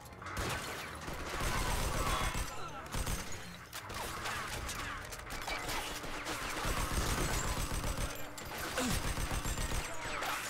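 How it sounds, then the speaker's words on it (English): Rapid automatic grease gun fire in Mafia 2, dense rattling bursts repeating steadily through the scene amid clanking mechanical game sounds. "I'm cleaning up with this grease gun."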